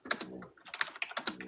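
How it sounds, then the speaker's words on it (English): A loud computer keyboard clacks in quick, uneven bursts of keystrokes, close and crisp, with brief pauses between flurries. "You're Ray, your keyboard is so goddamn loud."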